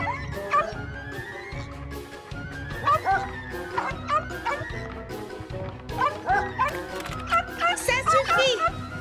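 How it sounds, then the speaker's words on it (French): A dog barks and yips repeatedly indoors in an animated children's cartoon, sharp close barks in uneven bursts over background music and sound effects. "Quand on est à l'intérieur, on n'aboie pas"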